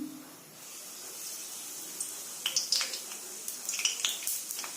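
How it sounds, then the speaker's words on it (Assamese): A little oil is poured into a kadai (wok) on a gas stove, starting as a soft hiss and then breaking into scattered crackles and pops that grow busier toward the end, close and fairly quiet. "কেৰাহীত তেল দিছোঁ অকণমান"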